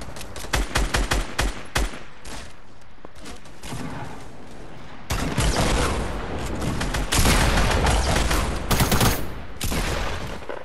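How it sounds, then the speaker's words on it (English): Rapid bursts of Fortnite's new machine gun firing in a 50 v 50 match, dense rattling volleys with short pauses early on, then a sustained louder stretch of continuous gunfire and explosions close by. "is that the new machine gun firing?"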